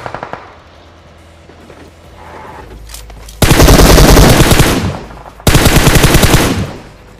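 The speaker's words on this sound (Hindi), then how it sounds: "पर अभी यहाँ पे हमें गोलियां चलने की आवाज आ रही है" Two loud bursts of rapid automatic gunfire ring out in the video game BGMI after a quieter stretch of faint background sound, each burst lasting about two seconds.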